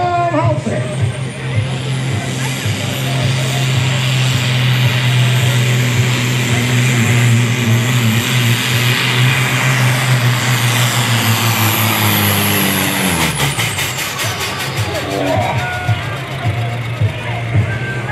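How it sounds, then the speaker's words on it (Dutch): A heavily loaded 3.6-ton Supersport class pulling tractor roars at full revs through a pulling run at Halsteren, a loud sustained engine drone that cuts off sharply near the end, with an announcer commentating over it. "Bloedduimje op toeren, Karel Halsteren."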